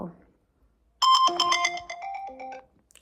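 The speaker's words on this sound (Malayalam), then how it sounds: "കോൾ വന്നതാണ്" A mobile phone ringtone for an incoming call chimes out loud and close in a bright, rising and falling melodic pattern for about a second and a half, after a brief stretch of quiet talk.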